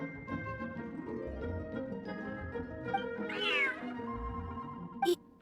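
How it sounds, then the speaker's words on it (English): A large cat meows in the video game Genshin Impact, with one clear rising and falling meow near the middle, heard alone over soft background music. "Whoa, this cat is way bigger than the others."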